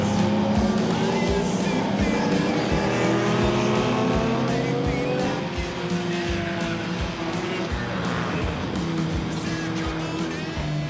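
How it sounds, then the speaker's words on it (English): A classic Lotus race car at the Spa-Classic historic endurance event roars past at high revs with gear changes and rising and falling engine tone, loud and close, amid other cars on track. "The light and agile Lotus,"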